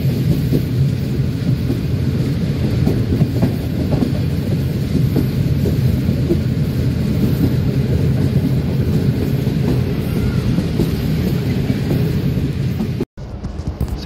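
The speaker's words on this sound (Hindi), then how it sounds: "सडाड़ी रेलवे स्टेशन पे गाड़ी पहुँच गई है" A train pulling into Sadadi railway station in Sindh, a loud, steady low rumble of rolling wagons filling the whole stretch, briefly cutting out near the end before resuming.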